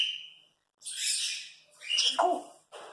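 A grey parrot imitates a small bird's chirping with a few close, loud bursts of squawky chirps separated by short pauses, alone with no talk.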